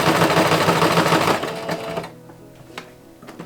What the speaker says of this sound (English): I can add it to all my hems with a zigzag stitch